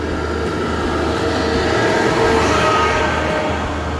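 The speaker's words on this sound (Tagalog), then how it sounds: "may train guys, may train dadaan." A train rolls past nearby in a dense, steady rumble with clattering wheel noise, loud and continuous throughout with no talk.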